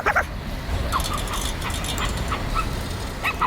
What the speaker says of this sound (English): Look at this big fluffy puppy